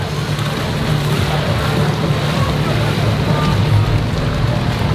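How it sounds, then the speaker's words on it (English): Floodwater rushing through streets in heavy rain at Universal Studios during Halloween Horror Nights, a loud continuous roaring wash with wind buffeting the microphone and no clear talk. "This is the most insane flooding I have."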